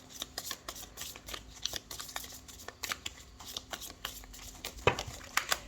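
Tarot cards shuffled close by in a steady series of soft, papery riffles and flicks, with a few sharper snaps toward the end.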